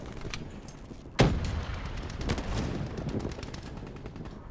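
Rapid bursts of gunfire from a camping simulator shooter game, one sharp loud shot followed by a dense stretch of repeated rattling shots, close and harsh, with no talk over them.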